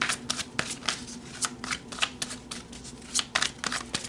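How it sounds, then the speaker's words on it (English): A deck of tarot cards is shuffled close up, giving quick crisp riffling and flicking bursts in an irregular rhythm, fairly soft and with no voice. "So let's pull some more cards."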